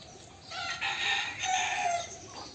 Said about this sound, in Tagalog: Mga manok, ang dami.